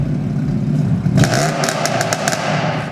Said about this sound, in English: let's start the engine firstly and show you what it sounds like